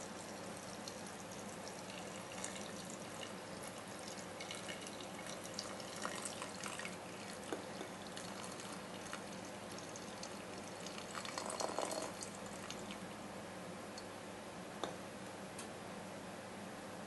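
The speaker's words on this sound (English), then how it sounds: "Transistors are covered with the leaching solution and the beaker is shaken." A glass beaker holding iodine leaching solution and transistors is swirled and shaken, giving faint liquid sloshing with light clinks and ticks against the glass, quiet and close, with no voices.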